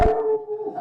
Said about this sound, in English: there's my dog saying, Yeah.